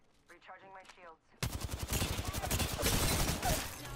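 Rapid bursts of automatic gunfire in the Apex Legends shooter, loud and close, kicking in after a brief stretch of quiet talk and rattling on steadily to the end.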